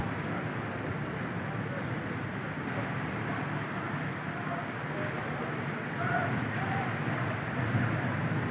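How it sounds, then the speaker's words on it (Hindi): Heavy rain pouring steadily, a dense continuous hiss of drops on surfaces, growing slightly louder toward the end. "खूब जम कर बारिश हो रही है"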